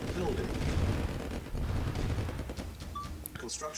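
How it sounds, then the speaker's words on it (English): Tanks firing on buildings in Command and Conquer Red Alert Remastered, a continuous rumbling barrage of gunfire and explosions at moderate volume, with someone commenting over it. "you can see those 3 orange tanks just taking out those buildings"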